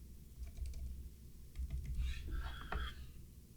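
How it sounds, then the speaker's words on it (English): Keys clatter on a computer keyboard as a prompt is typed into a text entry field, in short irregular bursts of quick taps with pauses between them, close and moderately loud. "We need a text entry in order to type in our prompt."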